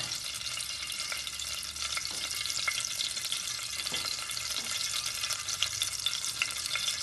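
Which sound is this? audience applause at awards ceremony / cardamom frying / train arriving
cardamom frying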